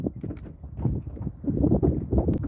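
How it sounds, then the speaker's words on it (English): Gusty wind blows over open water while bass fishing from a boat, a rough, steady low rumble buffeting the microphone up close with no talking. "Wind is blowing"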